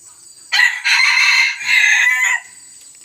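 A bantam rooster crows once, loud and close, in a strained call of about two seconds broken into two or three surges, with quiet before and after.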